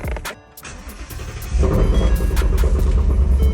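A damaged Ford Mustang's engine cranks and catches, then settles into a loud, deep rumbling idle that continues steadily to the end.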